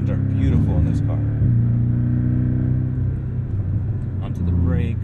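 Porsche sports car lapping a track at the Los Angeles Porsche Experience Center, its steady engine drone rising and dipping through tight corners, close and loud, with a driver talking over it.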